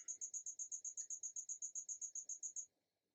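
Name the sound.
cricket chirping loudly in the background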